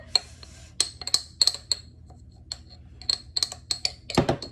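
Sourdough starter of flour and water being stirred in a container, heard as a run of sharp, close clinks and taps of utensil against the vessel in an irregular rhythm, ending with a quick cluster of scraping knocks.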